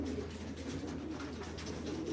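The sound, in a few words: pigeons cooing in a loft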